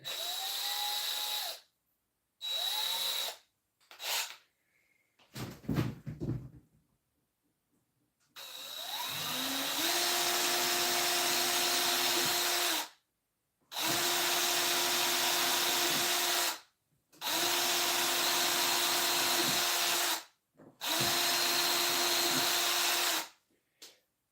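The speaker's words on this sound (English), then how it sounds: "I wonder if I could drill a hole through that without it cracking." A power drill drilling through wood whines in short bursts, then runs in longer steady stretches separated by brief pauses, close and loud.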